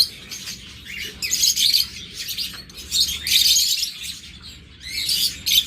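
Large, tame pet birds from a breeding farm chirp in bright, rapid bursts that come and go in waves, close and fairly loud, with no voices.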